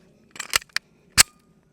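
A CZ P-10C ported compact pistol slide released and snapping forward, a short cluster of sharp metallic clicks followed by one crisp, loud clack, close and with no talking.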